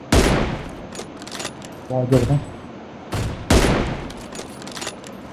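Gunfire in the mobile battle-royale game PUBG Mobile: several loud, sharp shots and short bursts spaced a second or so apart, with a brief voice heard between them.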